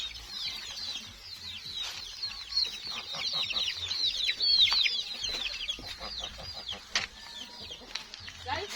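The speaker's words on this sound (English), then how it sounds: "And we have some small chickens over here too." Small village chickens cluck and chirp without pause through the whole stretch, with a steady busy chatter of overlapping calls close by and a few sharper squawks.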